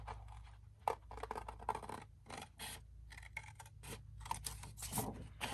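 Scissors cut freehand through a paper piece for a junk journal, producing a series of soft, close snips and rustles at low volume with no talking.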